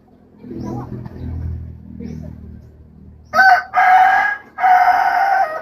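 A rooster crows in three loud, close bursts, each long and strained, following a few seconds of low muffled rumbling and movement.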